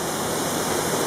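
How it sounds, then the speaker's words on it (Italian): The Aniene river near the Trevi waterfalls in Lazio flows in springtime with a steady, close, full rushing roar of water that runs unbroken and alone throughout. "Questo è il fiume Aniene, che a 100 metri confluirà con il fiume Simbrivio."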